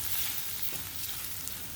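Onions and garlic frying softly in a pan, a steady even sizzle close by with no talk over it.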